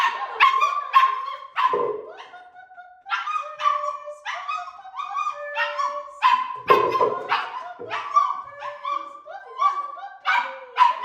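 A puppy barks and yips repeatedly in short, loud bursts close by, with brief whimpers between barks; no talk is heard.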